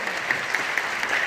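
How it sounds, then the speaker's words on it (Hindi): Audience applause at an education encouragement award and talent honour ceremony fills a short moment as dense, steady clapping from a crowd, with no distinct voices. "बहुत ही जोरदार ताली के साथ स्वागत करना चाहिए इस प्रयास का।"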